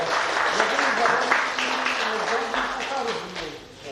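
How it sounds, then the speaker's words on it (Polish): Applause at a karting season closing ceremony, a steady burst of clapping that carries through the whole moment, with voices talking over it. "Brawa dla Pawła"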